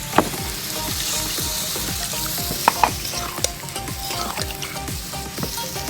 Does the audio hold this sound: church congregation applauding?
no